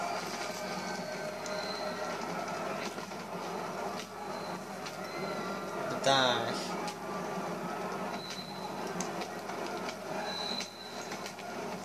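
A train rumbles past in the Battlefield 3 singleplayer campaign with a steady rolling roar of wagons and a brief loud screech of the wheels partway through. Someone briefly speaks over the noise.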